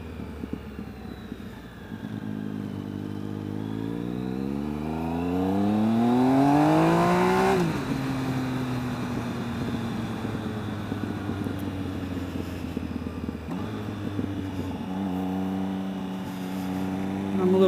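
2013 Triumph Speed Triple motorcycle engine while riding, revs climbing steadily through a gear then dropping at a shift and building again, with steady wind roar throughout and a rider's voice talking over it.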